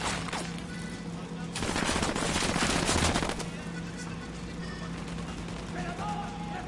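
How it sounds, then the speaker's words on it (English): Gunfire in a PS4 video game, a loud burst of rapid automatic fire in the middle amid steady game noise, with voices talking around it. "Shots fired."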